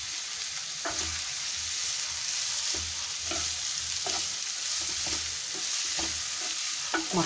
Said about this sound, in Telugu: ఇప్పుడు బంగాళదుంప కూడా మనం యాడ్ చేసేసేద్దాము.